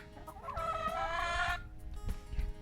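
Several chickens cluck and squawk close by, a busy run of harmonic calls that peaks loud in the first second and a half and then drops to scattered softer clucks over background noise.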